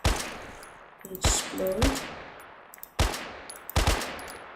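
Gunfire from a first-person shooter game: several sharp, loud shots and short bursts spaced across a few seconds, with someone talking quietly between them.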